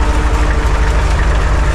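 A tractor engine labours steadily while ploughing heavy, stony ground on a downhill stretch, giving a loud, close, continuous low rumble with no voices.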